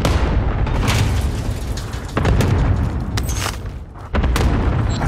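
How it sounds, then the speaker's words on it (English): Enemy cluster strike in a first-person shooter video game, a rapid series of heavy booms and blasts rolling one after another, loud and close, with sharp bursts marking new impacts. "Enemy cluster strike."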